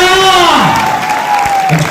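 A crowd at a business-building meeting in Mayaganj claps and cheers loudly, with a long rising-and-falling whoop riding over the noisy applause.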